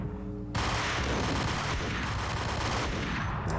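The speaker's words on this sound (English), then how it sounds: "Someone's shooting me on this side now." Dense, sustained gunfire from the Max Payne video game erupts after a brief quiet start and keeps hammering loudly and continuously, a rapid overlapping barrage of shots with no talk.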